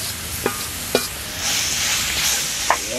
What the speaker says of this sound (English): so just stir it up and cover it